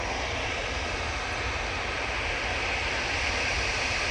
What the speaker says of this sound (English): And the other EasyJet now on the roll. He's the 320 CEO.